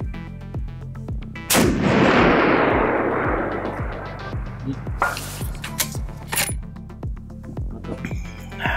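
Rifle shots are fired over a Bulletseeker chronograph during velocity testing, with one sharp, loud blast followed by a long decaying echo and a few fainter cracks and metallic clinks later, over a steady rhythmic ticking.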